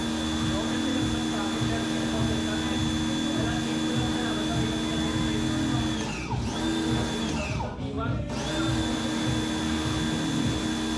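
Air blowers dry a freshly washed ZX4RR motorcycle with a steady, loud, continuous whoosh that holds throughout and dips briefly partway through.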